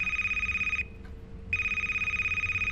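Telephone ringing in the video game A Place, Forbidden: a loud, electronic ring repeats in bursts, stops briefly for a short gap, then starts ringing again, with no voices over it.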